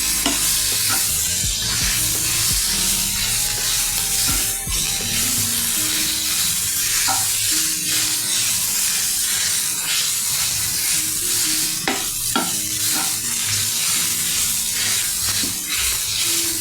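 A ladle stirs and presses a potato cutlet mixture of mashed potato and bread in a pan, giving loud continuous sizzling with repeated scraping and knocking strokes up close, and no voices.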